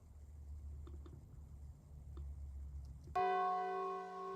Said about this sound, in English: It's a fucking bell.